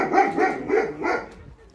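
Dogs bark repeatedly inside a kennel building, a steady run of four or five overlapping loud barks at close range with no talking.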